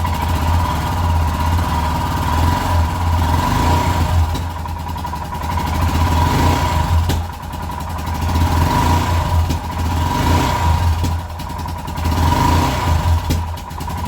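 Motorcycle engine idling in a garage, a steady loud mid-pitched putter with slight pulsing rises in revs throughout, no talking over it.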